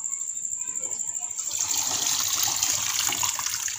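Water pours strongly from a tap into a sink while spinach is rinsed by hand, the flow rising to a steady rush after a quieter start.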